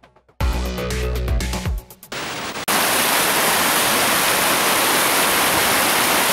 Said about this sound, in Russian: снимали уже на улице, как вода заполняет долину реки